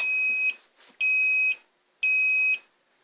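Three loud, high-pitched electronic beeps, each lasting about half a second, evenly spaced with short silences between them, from a New Power Max NPM4000H inverter generator at startup.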